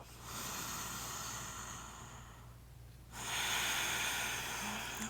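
Slow, steady breathing during a yoga sun salutation, a soft airy breath hissing close by: one long exhale fades out near the three-second mark and a fresh inhale follows, with no talk.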